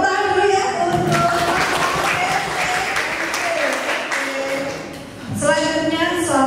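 Audience applause breaks out at a quiz competition final, a steady wash of clapping that fills the stretch, with background music carrying on beneath it.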